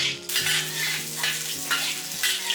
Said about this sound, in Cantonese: 蒜頭薑爆香佢，